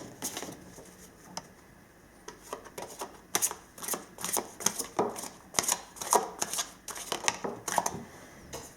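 Tarot cards shuffled by hand in a series of soft, rapid riffling bursts and flicks, close and fairly quiet, with no talking.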